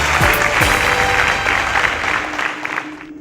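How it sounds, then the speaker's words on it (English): Audience applause at a competition show, dense loud clapping from a crowd that holds steady and then tapers off toward the end. "A round of applause for Oreoluwa."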